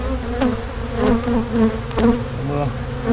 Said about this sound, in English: There's a box of bees there.